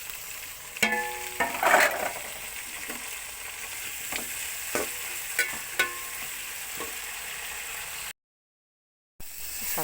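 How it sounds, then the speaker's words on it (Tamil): Tomatoes and onions sauté in a pan for kuzhambu, a soft steady sizzle broken by occasional scraping stirs and clicks of a spoon, close and fairly quiet, with a brief dropout near the end. "தக்காளி வெங்காயம் வதங்கிட்டு நல்லா."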